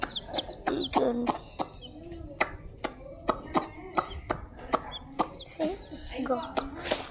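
Chickens and chicks clucking close by, a steady run of short, sharp clucks and peeps in an uneven rhythm, with faint voices in the background.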